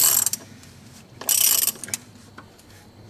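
A ratchet with a 36mm socket clicks in short bursts while tightening the fuel filter cap on a 6.4L Ford Super Duty diesel, with quiet pauses between strokes.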